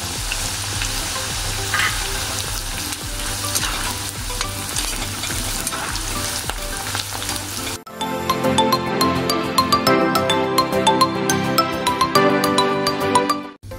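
Curry leaves and carrot frying in oil, a dense continuous sizzle with spitting crackles and stirring, which later turns into a louder, brighter spattering burst.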